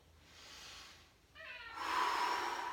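A cat meows faintly in the background during a quiet home workout session, a soft drawn-out call followed by a louder rising one.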